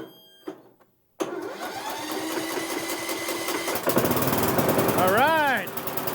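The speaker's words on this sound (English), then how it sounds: "Let's see if this thing will start." A Cub Cadet lawn tractor, boosted by a battery charger, cranks steadily after a brief quiet gap, a continuous mechanical whirring churn close by that grows a little rougher but does not catch and run.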